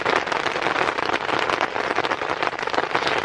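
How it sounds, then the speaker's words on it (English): Steady heavy rain drums on a tent and its tarp during a monsoon night, a dense, even patter close overhead that fills the whole stretch without pause. "if you ever slept in a tent in the rain"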